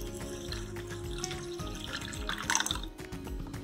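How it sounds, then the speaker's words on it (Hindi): Water is poured onto rinsed dal and rice in a bowl to soak for dosa batter, making a steady splashing, trickling flow that stays fairly constant for a few seconds. "अब हम इसमें पानी डालेंगे।"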